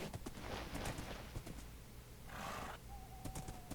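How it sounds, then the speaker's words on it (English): Horse neighing in the Minecraft Dawncraft modpack, a faint whinny among soft game sounds and clicks, with a short tonal call near the end, quiet and distant. "Every once in a while, just kind of rears up and neighs a bit."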